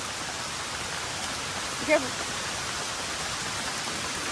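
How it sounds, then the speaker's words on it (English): Heavy rain pouring during a hike in Hawaii, a dense, steady hiss of downpour close around, with a brief spoken warning cutting through midway. "it's pouring to rain"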